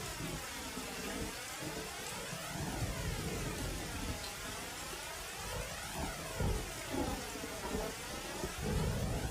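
Steady heavy rain falls in an anime episode of Naruto Shippuden, a dense continuous hiss with low rumbling beneath, constant throughout with no voices.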